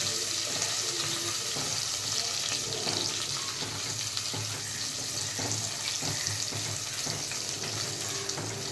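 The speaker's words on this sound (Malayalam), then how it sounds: "വെളുത്തുള്ളി നല്ലോണം മൂത്ത് വരട്ടെ." Garlic and onion sizzle steadily in hot oil in a home kitchen pan for a kingfish curry, a dense, even crackle that holds at the same level throughout with no talking.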